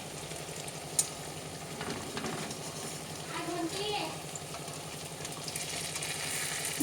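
Bora fritters frying slowly in oil over low heat give a soft, continuous sizzle with gentle bubbling, heard close but quiet, with a voice speaking now and then over it.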